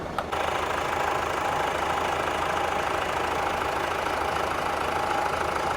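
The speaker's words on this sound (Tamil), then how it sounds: "வாங்க இன்ஜினோட சவுண்ட் பார்க்கலாம்." A Tata Safari diesel engine idles close by with a steady, even rumble and faint knock that holds unchanged throughout after a brief click at the start, with no voices.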